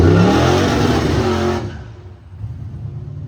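A 1979 Ford Bronco at a busy car show cruise strip revs hard, a loud, rough engine roar that cuts off abruptly midway, leaving a lower idling rumble and crowd ambience.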